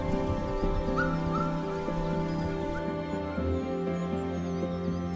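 An African wild dog mother near her den calls her pups out with soft, repeated whimpers, yips and short barks, close and continuous over several seconds with rustling in the background.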